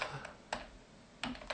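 Keys pressed on a computer keyboard in a few distinct bursts of clicks, near and clear, with quiet pauses between and no talking.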